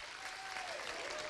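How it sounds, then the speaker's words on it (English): Audience applause for a band, a dense wash of clapping sustained evenly, with a faint voice underneath. "Yeah, round of applause."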